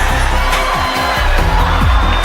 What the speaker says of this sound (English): How about a round of applause for Miss Venezuela, everybody?